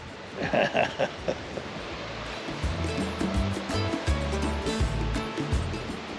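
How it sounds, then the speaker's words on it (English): Steady rushing water roars throughout, broad and continuous like a nearby cascade, with a few brief louder bursts early on; Anna Ruby Falls, twin waterfalls where two streams meet, near Helen, Georgia. "Anaruby Falls is actually twin waterfalls created where two separate streams meet."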